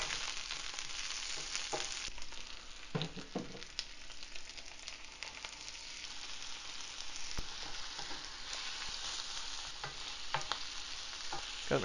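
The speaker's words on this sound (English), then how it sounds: "Now I will cook the zucchini." Sliced zucchini frying in a pan, a steady close sizzle with occasional clacks and scrapes of stirring, no voices.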